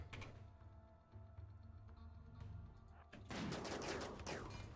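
Sniper gunfire in the RimWorld video game, a sudden loud burst of sharp shot and crackling impact noise that lands after a stretch of quieter game background, with a steady low hum underneath.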